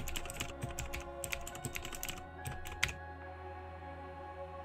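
Rapid clatter of computer keyboard keys as a pool description is typed into the pfSense DHCP settings, a quick run of close, crisp keystrokes over steady background hum, stopping near the end.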